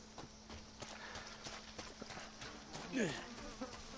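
Flies buzz in the Resident Evil 7 video game, a soft, steady insect drone that runs the whole time under a low hum, with a brief louder swell near the end.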